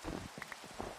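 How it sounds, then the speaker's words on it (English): Rain falling in the Minecraft Enigmatica 6 modpack, a brief steady patter with a few soft drop-like ticks, heard faintly on its own. "It's literally raining here,"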